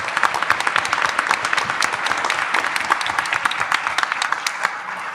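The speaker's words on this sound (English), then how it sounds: "I'm just going to round of applause for Will Garner," An audience at a Rotary Club candidate forum gives a round of applause for Will Garner, a steady, dense crackle of many hands clapping, filling the room at even loudness with little talk.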